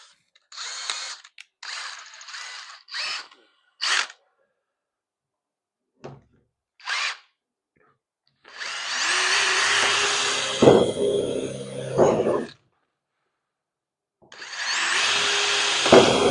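A power drill with a bit, several short whirring bursts followed by two longer sustained runs of drilling, with clicks and handling noise in the gaps.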